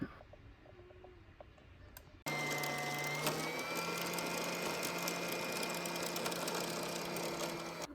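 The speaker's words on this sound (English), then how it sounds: "Once the bobbin is in position, press down on your foot controller." A sewing machine winds its bobbin under foot-controller power, starting abruptly after a quiet stretch and then running as a loud, steady motor whir with a constant high whine, unbroken to the end.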